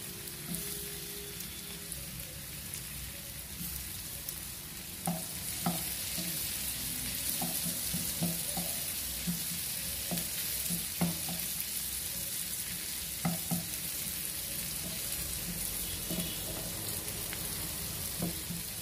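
A vegetable egg mixture fries in a pan with a steady, close sizzle, broken by repeated scraping and clinking stirs. There is no talking.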